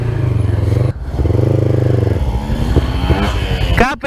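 Yamaha R3 sport motorcycle with an Akrapovic exhaust, loud and close, idling with a deep throb, briefly cut, then revving again with rising and falling engine pitch and a clatter near the end.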